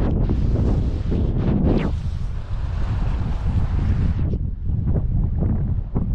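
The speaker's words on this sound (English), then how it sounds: "obviously the wind's going to blow, so I'll try and edit some of the blowing out" Strong wind buffets the microphone at a lakeside carp fishing swim, a loud continuous roar with gusts that swell and ease, alone with no talk.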